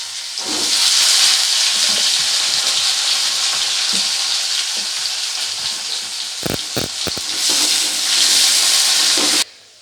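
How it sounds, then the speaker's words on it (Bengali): Potatoes fry in hot oil with a loud, dense crackling sizzle that holds steady for most of the clip, broken midway by a few sharp knocks, then swells again before cutting off. "আলুটাকেও একইভাবে ভেজে তুলে নেব প্রথমে"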